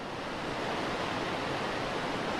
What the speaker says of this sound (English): A waterfall at a little lake, turning into a small river coursing its way to the other side of the clearing surrounding it.